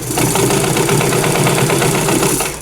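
A sewing machine runs in one continuous burst while stitching a curved seam on a custom dress form. Its motor gives a loud, close, steady whir with a fast rhythmic chatter that eases off at the end.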